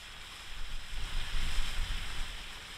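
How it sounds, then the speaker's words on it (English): Small waterfall on the Smithills Estate, a steady broadband rush of flowing water heard outdoors, with gusty wind rumbling across the microphone. "We're just going to listen to the little waterfall."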